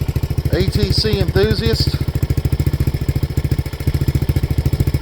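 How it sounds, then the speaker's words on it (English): A 1985 Honda ATC 200X three-wheeler idles with a new muffler, a steady, rapid, close thumping exhaust pulse running throughout, with someone briefly speaking over it early on. "the old 85-200X has got a new muffler. That doesn't sound too bad, does it?"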